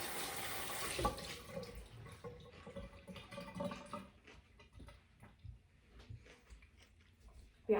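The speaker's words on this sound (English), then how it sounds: "obviously I need to wash my hands." Hands washed under a running kitchen tap, a faint steady splash of water that thins into scattered drips and small handling noises, fairly quiet throughout.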